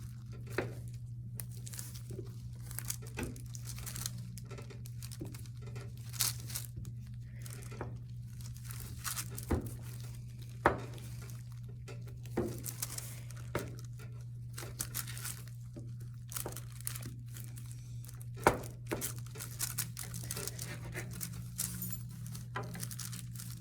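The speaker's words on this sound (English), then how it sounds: "I'm going to take a blunt knife and start cutting through it" A blunt knife cuts through a block of craft-store soap base, producing soft, scattered crunching and scraping strokes at close range over a steady low electrical hum.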